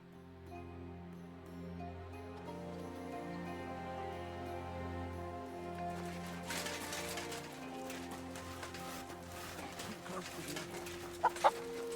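Chickens cluck in the medieval video game Kingdom Come: Deliverance II, repeated soft clucks over quiet game ambience, with a few sharp clicks near the end.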